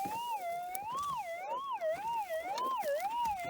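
A handheld metal detector gives a loud, warbling electronic tone over a gold target under a log outdoors, rising and falling steadily in pitch over several cycles without pause.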